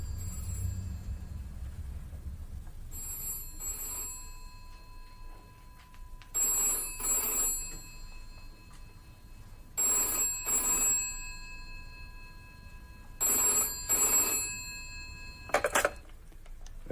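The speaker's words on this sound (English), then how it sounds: "Is that the phone?" A telephone bell rings in four evenly spaced double bursts with quiet gaps between them. The ringing is clear and moderately loud, with no voices over it, and ends in a short clatter.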